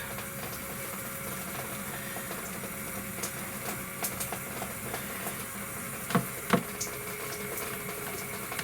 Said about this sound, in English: Come on, little pump, get rid of the air.